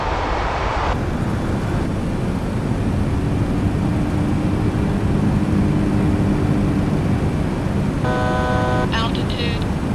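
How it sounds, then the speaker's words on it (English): MD-11 flaps extending in a flight simulator, heard as a steady airflow and engine rumble in the cockpit, with a short mechanical whine near the end. "So you see the flaps are coming out now."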